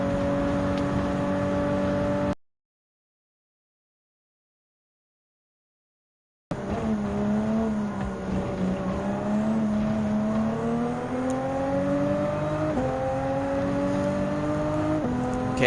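Racing car engine in Gran Turismo 7 during a Toyota Gazoo Racing GT Cup race, a steady droning whine that rises and falls through gear changes, broken by a few seconds of silence.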